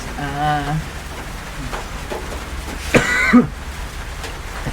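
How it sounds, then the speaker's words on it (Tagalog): Steady heavy rain hisses in the background while a person speaks briefly and someone coughs or clears their throat close by. "Grabe naman, lakas talaga ng ulan."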